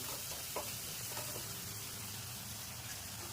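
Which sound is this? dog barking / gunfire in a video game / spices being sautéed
spices being sautéed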